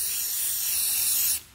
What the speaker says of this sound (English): take you a can of spray paint and then spray your hook